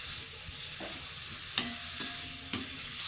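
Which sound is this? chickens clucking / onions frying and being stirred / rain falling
onions frying and being stirred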